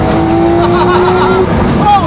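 A Lamborghini SV accelerates hard, with a loud, close engine note rising in pitch and then dropping as it shifts, a voice briefly heard over it.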